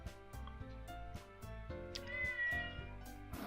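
A pet cat named Lotus meows loudly and close by, a drawn-out cry layered over steady, rhythmic music, with no talking.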